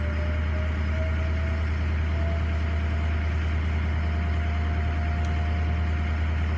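Diesel truck engine running steadily with its variable-geometry turbo boosting, a loud continuous low rumble with a faint rising whine layered over it and no talk.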